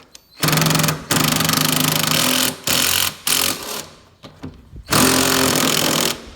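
Power tool bursts work the engine mount carriage bolts on a 1972 Ski Daddler Mark IV vintage snowmobile chassis, several loud buzzing runs broken by short pauses, close up and without talk.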